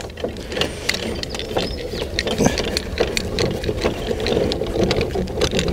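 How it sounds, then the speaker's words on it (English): Crank handle winding down the stabilizer legs on a Cub camper trailer, making a rapid, steady ratcheting clatter of close mechanical clicks that continues without pause and without talk. "Wind them down till they're firm."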